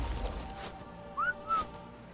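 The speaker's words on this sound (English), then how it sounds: "Whistling that Rex, trying to get it out of here." Two short rising whistle blasts call a Rex in the survival game Survival of the Fittest, standing out clearly over a low background rumble.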